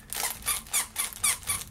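A crinkly newspaper-style dog toy with a squeaker gives five or six quick rhythmic squeezes, each a bright crinkling squeak, close and fairly soft with short pauses between.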